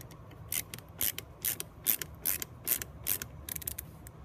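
A screwdriver works the Phillips screws on the butt plate of a Hatfield single-shot shotgun, making a quiet series of short, evenly spaced metallic clicks about twice per second.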